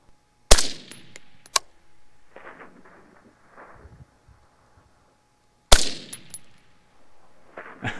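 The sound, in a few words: AR-15 rifle double-tap shots hitting steel at 800 yards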